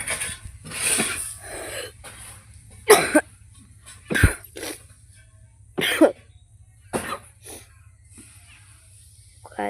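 A person coughs in a series of sharp, separate bursts at close range, several harsh coughs spaced a second or two apart, with some breathy throat sounds between them in an otherwise quiet room.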